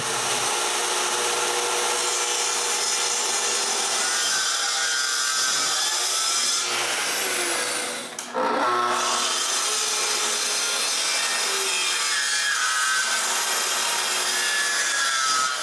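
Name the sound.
sawing off wooden frame corners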